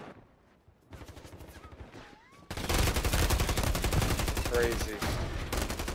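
Rapid bursts of video game gunfire fill the second half, loud and dense after a quieter stretch with a player talking briefly.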